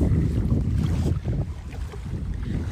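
A boat moves on the Ganga River as strong wind buffets the microphone, a heavy low rumble with steady engine-like drone and no speech.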